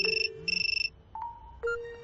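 A phone ringtone plays up close: two bursts of rapid trilling beeps, then a few sustained electronic tones.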